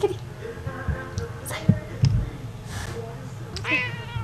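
A house cat meows several times in short, close cries while a person calls to it in a home.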